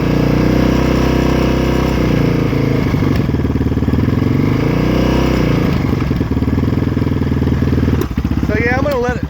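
Yamaha Raptor 660R ATV engine running and warming up after an overhaul, a loud close idle that wavers and dips in pitch, with a brief voice near the end.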